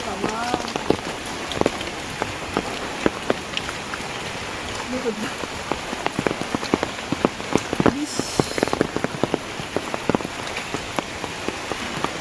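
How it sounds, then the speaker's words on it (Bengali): Heavy rain pours steadily on surfaces and splashes near a pond in Digha, a dense continuous hiss with scattered louder drops, while a person talks over it at times. "বেশি বৃষ্টি বন্যা হবে বাবা"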